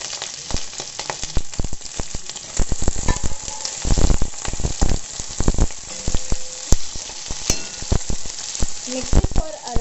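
Chopped onions and green chilies sauté in a hot pan for a mushroom biryani, with loud continuous sizzling broken by frequent sharp scrapes and clicks of stirring and no talk.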